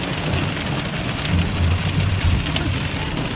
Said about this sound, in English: Everything's wet. Visibility is pretty bad right now, and it's hailing on us.